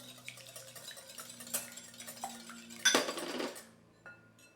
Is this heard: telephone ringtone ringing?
no